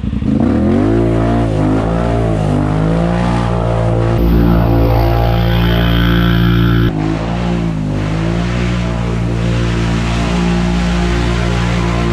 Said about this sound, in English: Low, engaged. 4x4 engaged, camera on.